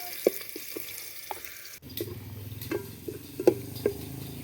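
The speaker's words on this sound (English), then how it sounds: "We add onions. We fry until they are golden brown." Onions frying in a pan until golden brown, with a quiet crackling sizzle broken by scattered stirring knocks and clicks, fairly close and moderate in volume.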